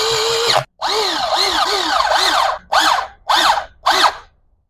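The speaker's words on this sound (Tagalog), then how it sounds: "dito sa shop, ginagamitan ko ng power tool para mas mabilis" A power tool drives motorcycle rotor bolts in a shop, a loud close whirring whine that rises and falls in pitch, repeated in several short bursts with brief pauses between, with no talking.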